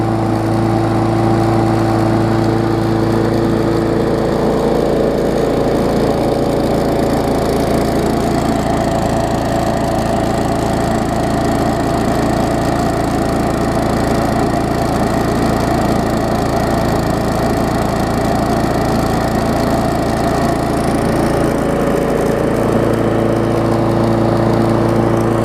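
A 2018 Murray big-wheel mower's swapped, reconditioned engine runs steadily up close, a loud continuous hum with only slight changes in pitch and no voices.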